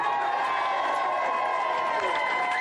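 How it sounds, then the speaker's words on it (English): A studio audience at a 1993/1994 Gamesmaster Team Championship games show cheers for the leading team, a steady, dense crowd roar with applause and shouts that holds at full level from start to finish. "Give them a cheer."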